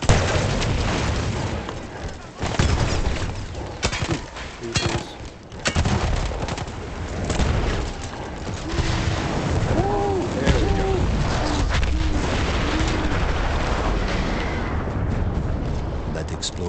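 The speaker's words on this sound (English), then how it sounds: "That explosion was one of the sweetest sights of the war for me." An artillery gun blown up in a wartime video game, with dense bursts of gunfire and booming blasts early on, then a sustained roar of battle rumbling beneath; voice-like sounds surface midway.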